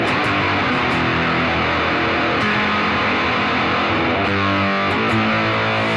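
Electric guitar played through a fuzz effect on a BOSS GT1000 dirty channel, back pickup selected, reverb off; a thick, buzzing distorted tone sustains steadily with shifting chords throughout, close and loud with no talking.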